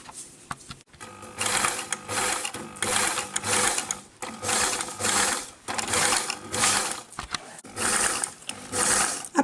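A sewing machine topstitches bias binding along the neckline of a top, running in repeated close, loud bursts of rapid stitching separated by short pauses.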